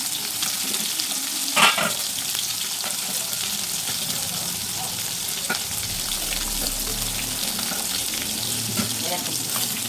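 Potato peel fritters fry in oil, with a dense, even sizzle and bubbling that hold steady for the full stretch and a few sharper clinks near the start.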